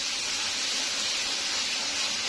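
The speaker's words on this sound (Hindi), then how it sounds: "ये मैं 3 बड़े टमाटर मैंने काट लिए हैं, ये डाल दूंगी। इनको अच्छे से मैं फ्राई कर लूंगी।" Three large chopped tomatoes frying in a pan for dhaba-style masala bhindi, a steady dense sizzling hiss, loud and close, with no pauses.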